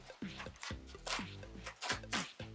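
Scissors cut and pull at the tape on a package being opened, a close series of sharp snips, rustles and scraping strokes with no talking.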